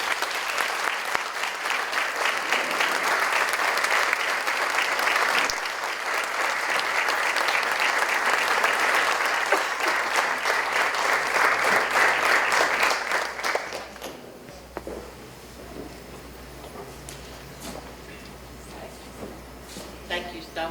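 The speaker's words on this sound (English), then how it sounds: "Would you help me applaud Martha Harris?" Audience at a chamber of commerce women in business luncheon applauding an honoree, sustained dense clapping for about fourteen seconds that then fades to scattered claps and room noise.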